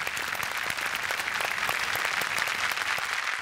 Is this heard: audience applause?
yes